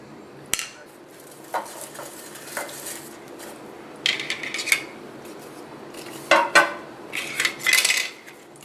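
White plastic Dollar Tree spoons being handled and shuffled, producing scattered light clacks and clicking clusters that grow busier toward the end, close and alone with no talk.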